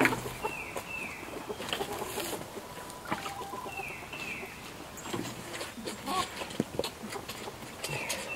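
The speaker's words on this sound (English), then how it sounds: "Chickens are getting pretty friendly with you, huh?" Chickens cluck and chatter nearby in a steady stream, with occasional higher calls over a busy outdoor background.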